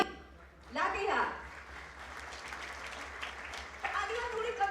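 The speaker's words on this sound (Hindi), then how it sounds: "तालियां थोड़ी कमजोर लगी मुझे, जोरदार तालियां होनी चाहिए" Audience applause at a Jharkhand government appointment letter ceremony, a short burst of clapping swelling early, easing into a steady hum of crowd noise and voices, then a second fuller round rising near the end.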